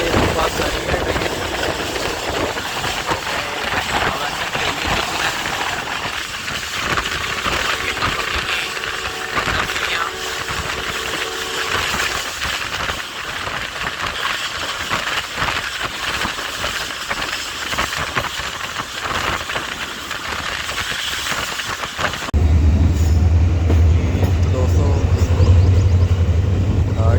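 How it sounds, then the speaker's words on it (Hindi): The 13 Up Awam Express, hauled by Tiger locomotive ZCUP 30, arriving at a railway station toward Lahore: a steady, loud mechanical rumble and rattle that grows into a heavier low drone near the end. "हमारी पतंगी रेलवे स्टेशन पे अराइवल हो रहा है 13 अप अवाम एक्सप्रेस"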